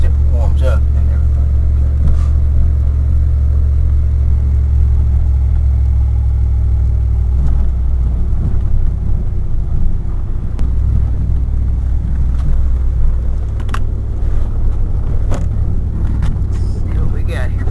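Exhaust of a wood-gas powered truck, running rough and losing power: a loud, low, continuous engine rumble with occasional clicks and knocks, heard from inside the cab while someone talks over it.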